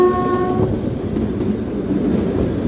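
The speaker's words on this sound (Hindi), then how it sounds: "और हमारी ट्रेन शिमला में प्लेटफॉर्म में एंटर करने वाली है।" Kalka-Shimla narrow-gauge toy train rolling into Shimla station, a short horn blast at the start giving way to steady rumbling wagon noise close by with no talk.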